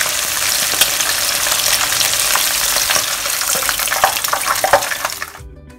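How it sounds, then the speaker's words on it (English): Pork ribs deep-frying in very hot oil for Chinese-style crispy garlic ribs, a loud, continuous close sizzle with bubbling and occasional stirring clinks that falls away abruptly at the end. "Once the oil is very hot, we'll put in the ribs."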